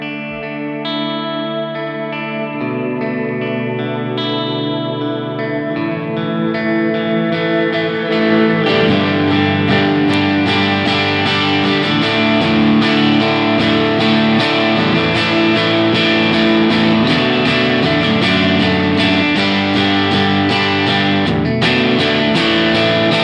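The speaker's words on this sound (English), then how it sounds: "that long tail reverb actually starts going away, and I'm just left with the room reverb." Electric guitar plays sustained chords and notes drenched in a dynamic reverb effect. The washy tail swells and thickens as the playing grows denser, and fades back to the room reverb when the playing eases.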